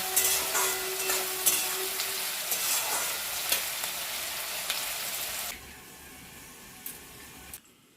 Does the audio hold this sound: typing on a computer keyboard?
no